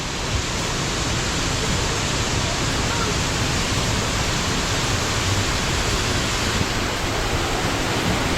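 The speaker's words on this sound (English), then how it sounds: "this section of the river we're currently going into is our waterfall section" An indoor waterfall along a resort's river boat ride at Gaylord Opryland, heard as a continuous broadband roar of falling water that stays steady and loud throughout, with no talking.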